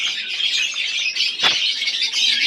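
Pigeons of Kaldoma, Chocolate Doma and Safdoma Giribaz breeds fill a loft with continuous chirping and twittering, one sharp click cutting through near the middle.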